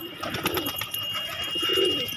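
Pigeons on a house rooftop, including a male pursuing a female, coo in soft, repeated throaty pulses, close and steady throughout the short moment.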